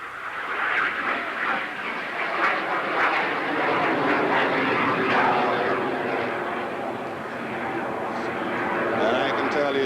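A solo airshow airplane at an international airshow drones steadily overhead as it pulls up into a loop, a broad moderately distant engine roar swelling and fading while a commentator talks throughout.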